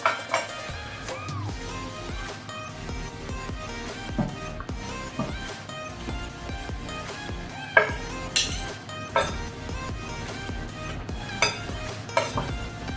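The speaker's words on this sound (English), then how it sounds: "this is going back on the stove. Let's reduce it down some more." Thickened venison pot pie sauce simmers on the stove, a low bubbling hiss under repeated clinks and scrapes of a spoon against the pot, close and continuous, with no talking.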